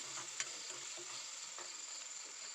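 Tomatoes fry in a pan for bisi bele bath, giving a faint, steady crackling sizzle with a few soft stirring taps.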